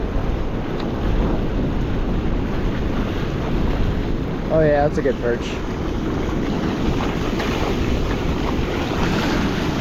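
Ocean surf rolls and washes steadily onto a California beach during perch surf fishing, with constant wind buffeting the microphone and a person speaking briefly partway through.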